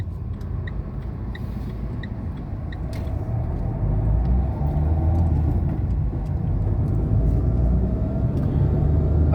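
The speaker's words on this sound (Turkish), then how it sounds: "Buradaki kavşakta aracımızı birinci vites alıyoruz." A car pulls away in first gear from a junction, its engine a steady low rumble that swells slightly as it accelerates, heard from inside the cabin with faint ticking in the background.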